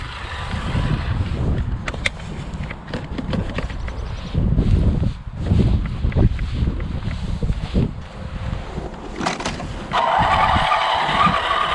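Small HG P405 RC crawler Jeep toy driving outdoors in low gear, with a whirring electric motor, scrabbling tyre noise and gusts of wind buffeting the microphone, continuous and fairly loud throughout.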